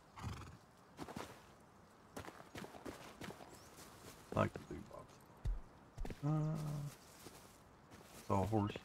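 Horse whinnies and clip-clop hooves in the survival video game Rust, two loud neighs later in the stretch among scattered hoof thuds, with people talking over parts of it.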